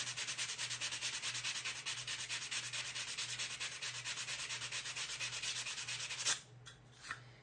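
Steady back-and-forth scraping of a sanding block on wood, rhythmic and close, continuing for several seconds before stopping with a few short rubs.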